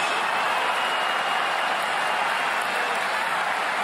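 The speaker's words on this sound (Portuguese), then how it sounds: "A torcida aplaude." Football crowd applauding in a stadium during a 2019 Copa América match between Brazil and Paraguay, a steady dense wash of clapping and cheering that stays loud and even throughout.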